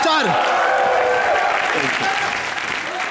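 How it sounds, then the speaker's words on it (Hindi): A studio audience at a Hindi TV comedy show bursts into loud, sustained applause, dense clapping filling the room and tapering slightly near the end while a voice speaks over it. "मेरे भाई नवराज के लिए जोरदार तालियां था"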